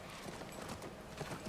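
Horse hooves clip-clop at a steady walking pace on a ranch in the video game The Last of Us, quiet and close for a brief moment with no talk.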